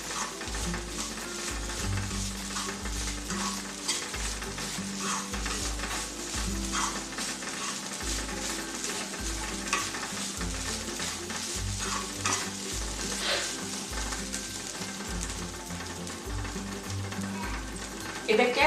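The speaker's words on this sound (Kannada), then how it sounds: "ಕೊಬ್ಬರಿ ತುರಿನೂ ಚೆನ್ನಾಗಿ ಹುರಿದುಕೊಳ್ಬೇಕು. ಹಸಿ ವಾಸನೆ ಹೋಗೋ ತನಕ ಹುರಿದು ತಗೊಳ್ಬೇಕು ನಾವು." Grated coconut roasting in a pan for coastal Karnataka crab sukka, with a steady dry crackle and rhythmic spatula scrapes and stirs running close and continuous throughout.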